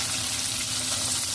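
Onion sizzling in hot oil in a pan while cooking stir-fried pancit bihon, a steady, close frying hiss with a faint crackle and no talking.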